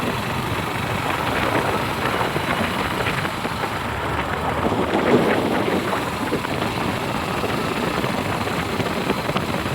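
Steady, loud rumble of a motorbike ridden at moderate speed along a road from Baharampur toward Nabagram, with broadband wind buffeting the phone's microphone throughout, no pauses and no talk.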